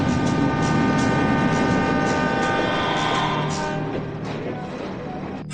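A passenger train runs steadily with a continuous broadband rumble and rolling rail noise, loud and close throughout, easing slightly toward the end.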